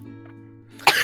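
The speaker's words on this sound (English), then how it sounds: "An old man, as you exit, coughs very haphazardly" An old man coughs once, a sudden harsh throat-clearing burst that breaks out of a quiet, tonal background near the end.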